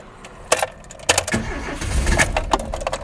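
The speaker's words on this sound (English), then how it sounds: "Let's just have a start up. Just so you can assess the noise for yourself." A hot Talbot Solara car engine cranks in a few short bursts with a jangle of keys, then catches and climbs to a fluttering run under throttle. It is close and moderately loud, with no talking.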